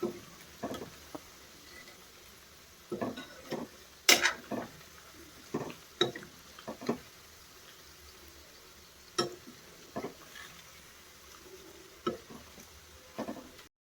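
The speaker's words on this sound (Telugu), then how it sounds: "ఇక్కడైతే చికెన్ పీసెస్ కూడా ఫ్రై అవుతూ ఉన్నాయి అబ్బా." Chicken pieces frying in a pan with ginger-garlic paste for a homemade chicken pickle: scattered clinks and scrapes of a utensil stirring against the pan over a faint, steady background, moderately close, no talking.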